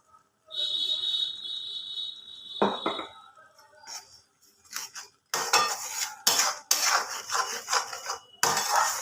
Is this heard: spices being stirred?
yes